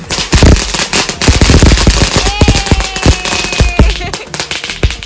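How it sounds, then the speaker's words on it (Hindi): A chakri spinning firework at a Bhai Dooj celebration crackles and pops in rapid bursts, with a whistling whine rising partway through, under people talking. "ये चक्री पागल हो गई है, दो दो बार बजा रही है ना।"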